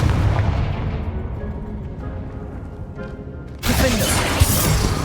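In Hogwarts Legacy, a Confringo blasting spell lands with a rumbling boom that fades, then a sudden loud bright blast with crackling debris near the end.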